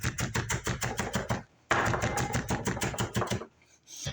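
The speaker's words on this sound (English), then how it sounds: "take your knife and just mince it up nice and small" A knife minces pineapple salsa ingredients on a cutting board in fast, crisp rhythmic taps, two rapid runs of chopping separated by brief pauses.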